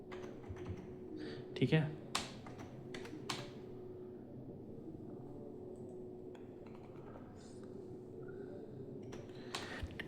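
Keystrokes on a computer keyboard entering operator data into CT scanner software, scattered taps in short bursts at moderate distance, heard under a steady low hum with a brief spoken remark.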